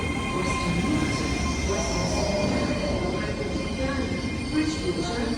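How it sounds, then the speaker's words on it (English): A Great Western Railway train bound for Taunton rumbles steadily at a station platform, making a continuous low roar with faint mechanical whine, and an indistinct voice talks over it. "Great Western Railway service to Taunton."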